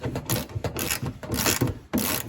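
A small ratchet with a 10 mm socket loosens a bolt on a 2010 Toyota Corolla during headlight replacement, giving rapid close-up clicking bursts in quick uneven strokes with brief pauses, no talking.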